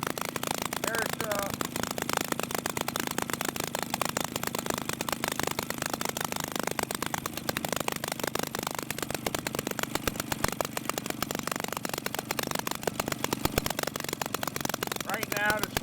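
A Maytag twin-cylinder washing machine engine with a carburetor runs at a fast, even idle, a rapid steady putter of firing pulses throughout, with someone talking over it.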